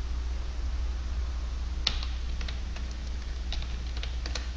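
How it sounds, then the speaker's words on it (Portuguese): Quick computer keyboard typing while entering a Linux terminal command, a short run of close, crisp key taps over steady background hum with no talking. "basta digitar MCEdit."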